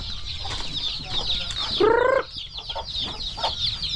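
Chickens cluck steadily on a farm with young chicks around, a louder rising call standing out midway against constant high bird chatter.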